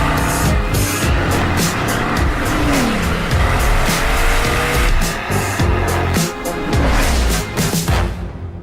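The Bugatti Vision Gran Turismo race car drives hard, its engine roaring loud and continuous with rising and falling revs, tyre squeal and bursts of gear changes throughout, with no voices.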